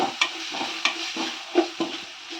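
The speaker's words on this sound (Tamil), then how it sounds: "நம்ம இதில் சிம்மில் வச்சு அடி பிடிக்காத அளவுக்கு கொஞ்சம் மசாலா வதக்கிடுவோம்" Masala spices being stirred and sautéed on low heat in a pan for a restaurant-style mutton gravy, with rhythmic scraping strokes of a spatula about every half second over a soft sizzle, no voices.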